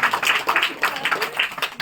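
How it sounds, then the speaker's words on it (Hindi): Congregation at a Hindi-language church service clapping for themselves, a lively burst of many hands in uneven rhythm filling the room for a couple of seconds, with no voices standing out over it. "ताली बजाइए अपने लिए"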